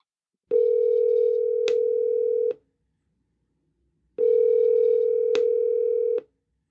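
Two long, steady telephone dial tones sound while a call is placed, each about two seconds with a brief click partway through, separated by silence.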